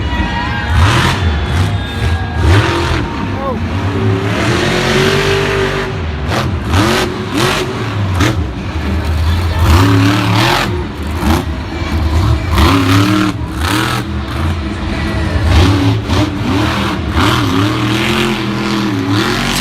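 A Monster Energy monster truck runs its freestyle at a Monster Jam stadium show in Tampa with a loud, close engine roar. The roar revs up and down again and again over a constant cheering crowd.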